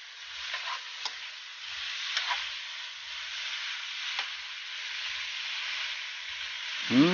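June bug larvae (abaling) stir-fry in a hot pan, a steady close sizzle running throughout with a few brief scraping stirs of the spatula.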